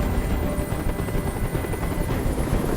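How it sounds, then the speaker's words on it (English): Helicopter hovering overhead in the video game Detroit: Become Human, a loud, constant rotor thrum with a rumbling, fluttering texture that fills the scene steadily without pause or voices. "I can't stand that noise anymore. Tell that helicopter to get out of here."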